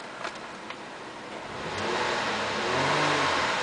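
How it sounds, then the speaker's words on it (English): A white 2008 Ford Edge SEL's V6 idles, then is revved, the engine note climbing about halfway through and holding at a higher, steady drone. "the reason I'm revving is just so you can see that the car is running"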